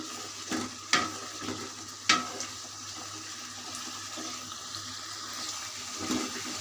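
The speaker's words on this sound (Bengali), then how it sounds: "মশলাটা কষানো হচ্ছে" Spice masala for Bangladeshi kacchi biryani sautés in a pot, a low steady sizzle broken by a few sharp scraping stirs of the spatula, close by and with no voices.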